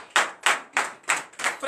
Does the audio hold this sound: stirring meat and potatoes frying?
no